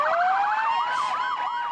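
Emergency vehicle sirens sound along a parade route, a loud, close rising wail that breaks into a rapid warbling yelp, with layered tones overlapping.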